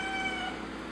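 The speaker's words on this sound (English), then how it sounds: "You're gonna forgive my cat, she's a little vocal." A house cat meows once in a drawn-out, slightly wavering tone under a steady hum of background noise, fairly faint and indoors.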